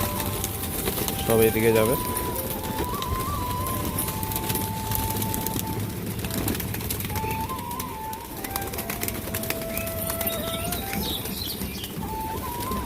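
Rampuri and Lalkath pigeons cooing and fluttering as they are released, soft bird calls close by under someone talking throughout, with a low steady background hum.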